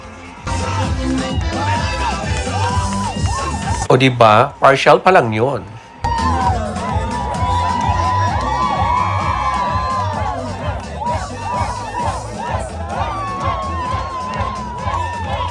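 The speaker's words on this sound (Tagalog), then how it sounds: "Maririnig ninyo ang kanilang hiyawan at halakhakan." Crowd of partygoers at a company celebration held in a palace in Istanbul, Turkey, whooping, cheering and laughing loudly throughout over steady party music, with a brief louder burst of shouting midway and a voice talking over the top.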